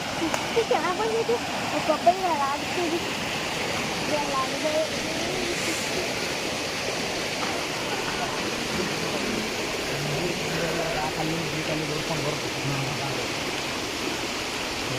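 A waterfall pours in a steady, broad rush of falling water, heard from some distance, with people talking now and then over the flow.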